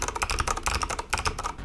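Fingers type on an OG80 mechanical keyboard with a thick polycarbonate case and aluminum mounting plate, giving quick, close clusters of deep, chunky keystrokes in an uneven rhythm.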